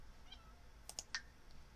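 A house cat meows in The Sims 4 Cottage Living, a couple of short, faint game mews with a few soft clicks, heard alone without talk.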